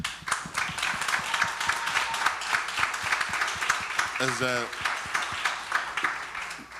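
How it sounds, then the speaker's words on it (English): An audience at a Freedom Summer 60th anniversary gathering gives a round of applause for the NAACP staff, rhythmic claps continuing steadily while a voice briefly speaks over them. "I want to just give them a round of applause"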